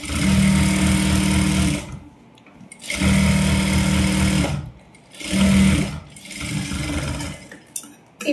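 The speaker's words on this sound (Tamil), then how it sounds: "லைனிங்லயே சுத்தி தையல் போட போறோம்." A sewing machine runs in three loud, steady bursts with short pauses between them, stitching all the way around the lining of a silk blouse, close up and with no talking.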